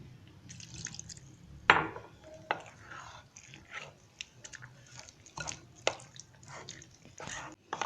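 Water is poured into gram flour (besan) batter while it is mixed for homemade nimko, giving soft close wet drips and sticky mixing squelches, irregular and quiet.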